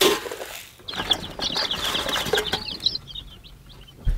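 Chickens in a crowded backyard coop meant for about 30 birds: soft clucking and chattering calls from several hens, with flapping and rustling, close and moderately loud, no talking.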